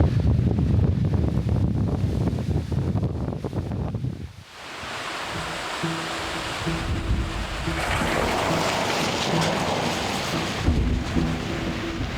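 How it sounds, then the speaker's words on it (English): Strong wind roars outdoors along the Allegheny Discovery Route in December, a loud broadband rush that gusts hard at first, dips sharply, then builds back into a steady blustery drone. "it's just been brutally windy"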